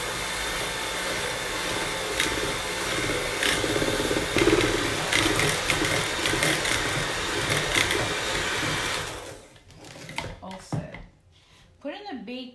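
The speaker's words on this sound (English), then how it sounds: "We're gonna do dough with a mixer." An electric mixer whirs steadily and loudly while beating eggs and sugar for a cake dough, then cuts out after about nine seconds, leaving scattered clinks, bumps and kitchen handling noises.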